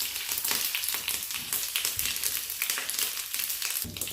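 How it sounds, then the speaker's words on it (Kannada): Mustard seeds, curry leaves and a cut dried chilli sizzle steadily in hot oil, giving a dense, close crackling hiss with sputtering pops that never let up. "ನೋಡಿ, ಎಣ್ಣೆ ಕಾಯಲಿಕ್ಕೂ ಸ್ವಲ್ಪ ಸಾಸಿವೆ ಹಾಕ್ತಾಯಿದ್ದೀನಿ. ಸ್ವಲ್ಪ ಕರಿಬೇವು, ಆಮೇಲೆ ಒಂದು ಒಣಮೆಣಸನ್ನು ಕಟ್ ಮಾಡಿದ್ದೀನಿ"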